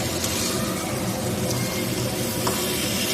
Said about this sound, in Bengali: এখন ক্র্যাবগুলো দিয়ে দিলাম এটাকে মশলার সঙ্গে ভালো করে কষিয়ে